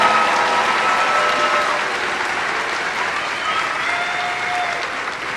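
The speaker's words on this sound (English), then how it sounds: "can I get a round of applause for this amazing class of 2021?" A large crowd at a high school commencement gives the graduating class of 2021 a dense, loud round of applause that holds steady, easing only slightly over several seconds.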